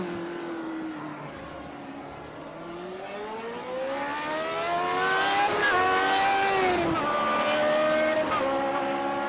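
Race cars in a sim racing video game scream through rising and falling gear shifts, engine notes sweeping upward and dipping repeatedly, loud and continuous with a brief tire squeal.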